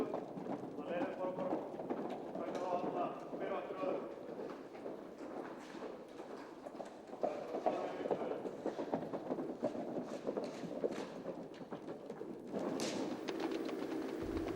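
A horse being exercised in an arena, its hooves clip-clopping in a steady cantering rhythm at moderate distance, with a person talking over the sound throughout.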